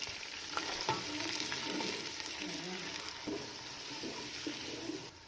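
Two medium onions dropped into hot cooking oil for matar pulao, giving a bright, steady sizzle with scattered clicks and stirring scrapes that eases slightly toward the end.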